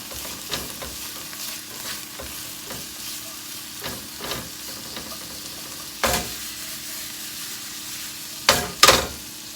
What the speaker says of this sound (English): We're gonna saute a little bit.